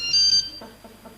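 A mobile phone rings briefly, a high electronic ringtone chirping for under half a second, followed by faint handling noises.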